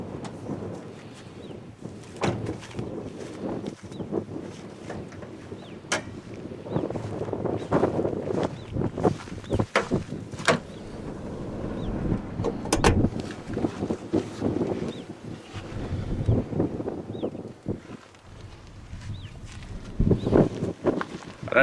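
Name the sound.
wind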